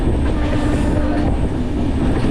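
A passenger train on the Visakhapatnam to Araku hill line makes a loud, continuous rumble and rattle of carriages up close, with no break in the noise.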